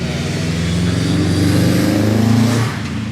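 A car engine revs at an outdoor car meet, a loud sustained rise in pitch that holds near and strong for over two seconds before dropping back to a steady idle.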